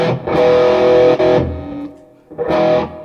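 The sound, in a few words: electric guitar through Marshall JVM410 amp, OD1 green channel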